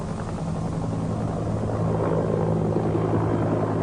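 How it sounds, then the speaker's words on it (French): A government helicopter flies over Medellín, a continuous, fairly loud rotor and engine drone holding steady throughout with no voices. "L'hélicoptère l'emporte et survole la ville pendant quelques minutes très intenses."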